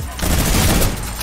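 Rapid minigun fire from the Fortnite video game, a dense continuous burst of gunfire lasting the whole moment, loud and steady with a faint voice underneath.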